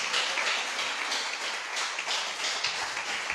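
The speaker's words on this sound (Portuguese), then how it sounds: "Vamos aplaudir Jesus bem forte" A church congregation applauds together, giving a continuous wash of fairly distant clapping that stays even from start to finish without talk.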